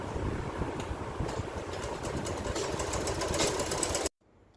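A sewing machine stitches bags made from old pants in a rapid, steady mechanical whir with a chattering needle rhythm, close and continuous, stopping abruptly near the end.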